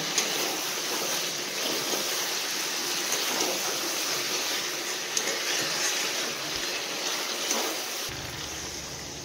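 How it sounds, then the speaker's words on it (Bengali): Hot water pours into a curry simmering in a pan, a continuous rushing, sizzling wash of sound that holds steady and fairly loud throughout. "এবার গরম জলটা দিয়ে ঢেকে দেবো।"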